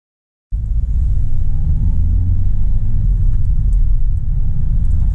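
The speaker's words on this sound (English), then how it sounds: "So now I'm doing 40 miles an hour in third gear, and the car won't go past that" Citroen Berlingo cruising at a steady 40 mph in third gear, a loud continuous low engine and road rumble with a faint whine above, holding evenly throughout after a brief silent start.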